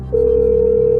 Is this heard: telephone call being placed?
yes